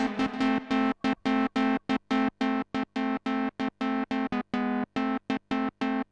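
A Minitar synthesizer played dry with no delay or reverb, a buzzy, harmonically rich tone in a steady run of short, evenly spaced staccato notes that cut off cleanly into silence.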